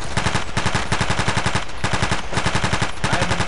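Rapid automatic gunfire from the video game Battlefield 2, a continuous stream of loud shots in quick bursts with brief gaps, dense and close, with no talking over it.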